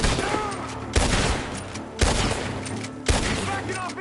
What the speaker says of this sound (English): Gunshots are coming.